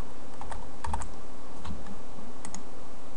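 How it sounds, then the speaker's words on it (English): Typing on a computer keyboard during C# coding: a close series of light, irregular key clicks, a few taps clustered together, steady and fairly loud against a quiet room hum, with no talk. "So I'm just going to go ahead and type in convert"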